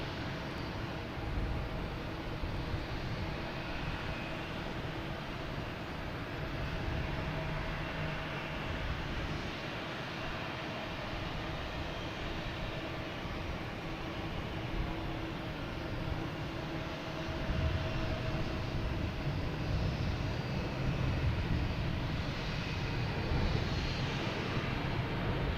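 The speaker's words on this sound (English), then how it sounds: "here's Delta, heading to LaGuardia, flight 5734 and E175" Delta Embraer E175 jet airliner bound for LaGuardia, heard as a steady broadband engine roar at moderate distance that holds even throughout and swells slightly toward the end, with no talking.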